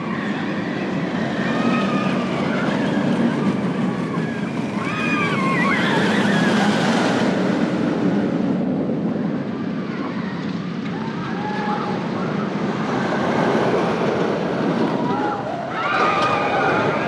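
Riding the Nightwing roller coaster at Six Flags America during Fright Fest, a rough ride heard as a loud continuous rumbling roar of wheels and rushing wind, with riders' voices and shouts rising over it.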